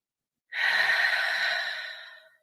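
One long, deep, audible exhale during breathwork, a breathy airy rush that starts abruptly, holds steady and then tapers off, close to the microphone with silence on either side.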